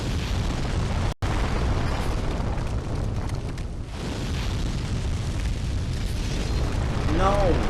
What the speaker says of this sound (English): so breathe fire